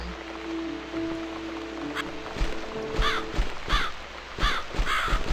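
A crow caws repeatedly in the horror video game The Cat Lady, several harsh calls spaced about a second apart over a rainy ambient backdrop, fairly close and unaccompanied by speech.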